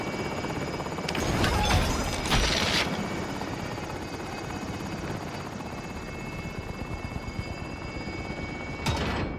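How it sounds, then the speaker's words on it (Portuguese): Helicopter in the Call of Duty: Modern Warfare video game, a steady whirring rotor drone holding throughout, with brief louder bursts and clatter near the start and end, no talk over it. "Helicóptero em posição. Pronto pro depósito."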